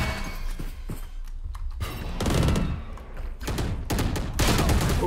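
Gunfire from the video game Valorant, several bursts of rapid shots with thudding impacts, loud and close, alternating with brief quieter gaps.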